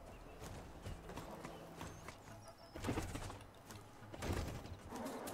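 Horse hooves clip-clop in a gallop in the Horizon Forbidden West video game, with rhythmic thuds under game ambience and a few louder footfall bursts.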